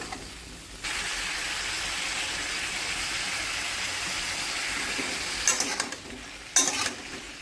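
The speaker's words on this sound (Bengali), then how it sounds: "ভালো করে ফ্রাই করে নেব একটু যাতে সবজির কাঁচা গন্ধটা চলে যায়" Vegetables seasoned with salt and turmeric fry in a pan with a loud, steady hiss that starts abruptly after a second, then a few sharp scraping clatters near the end.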